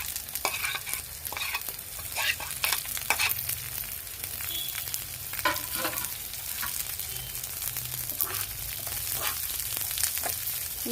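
Deep-fried corn is tossed with fried onions and green chillies in a pan, producing repeated scraping strokes of the spatula over a continuous soft sizzle.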